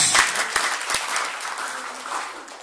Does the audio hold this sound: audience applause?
yes